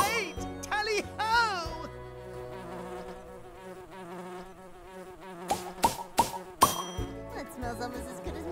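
Bees fly and buzz in the Nature Cat video game Pollinator Pathway, a steady insect drone running under cheerful game music, sweeping voice-like tones and occasional chimes and knocks.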